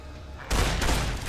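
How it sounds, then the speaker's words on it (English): A shotgun in poor, worn condition fires in Fallout: New Vegas, a single loud close blast that erupts suddenly after a quiet moment and rolls on briefly. "the shotgun's in really bad condition. That's why it's firing like crap."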